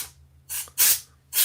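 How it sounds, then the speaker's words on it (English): An aerosol spray can hisses in three short bursts of different lengths, close and fairly loud, separated by near-silence. "let's just spray it right in front"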